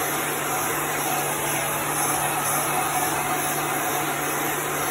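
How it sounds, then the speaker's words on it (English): A heat gun blows hot air in a steady, even whoosh with a faint hum underneath, close by and unbroken throughout. "we're going to dry this with our heat gun. You just want to move your heat gun."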